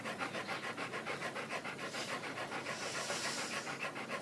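Rhythmic breathing through the mouth with the tongue held just behind the teeth, a steady series of airy, hissing breaths close up with no talking, lasting a few seconds at an even pace.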